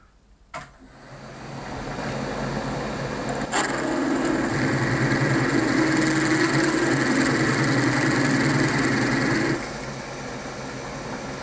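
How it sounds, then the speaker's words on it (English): A steady mechanical drilling whine as a 10mm drill bores into metal, grinding on for several seconds after a short start, loud and close, then easing off near the end. "we'll pilot it out with a 10mm drill"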